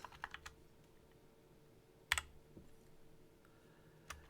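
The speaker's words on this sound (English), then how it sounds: "I keep forgetting that I have a clacky keyboard, so you guys can definitely hear" A clacky mechanical computer keyboard gives scattered, faint key presses, a few isolated clicks spread over several seconds with one sharper clack in the middle, set against a quiet background hum.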